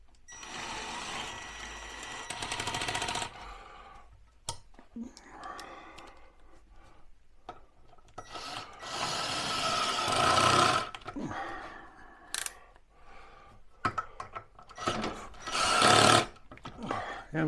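A power drill drives screws into wood in a workshop while a clamp storage wall is built, giving several close bursts of whirring motor separated by pauses, with a person talking in between.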